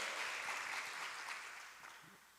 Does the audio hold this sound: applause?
yes